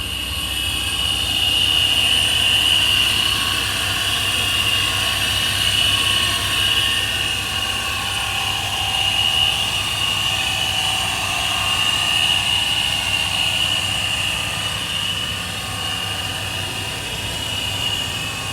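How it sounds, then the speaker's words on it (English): A 2017 Ford Mustang V6 with a ProCharger supercharger and water-methanol injection gives a steady, loud engine drone with a high whine, running continuously, the idle holding even with no revving or pauses. "Let's go see how the engine sounds."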